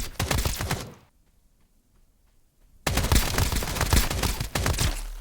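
Gunfire in the video game Escape from Duckov comes from a shooter firing through a building. Loud rapid automatic bursts stop for about two seconds of near silence, then resume in a longer sustained volley.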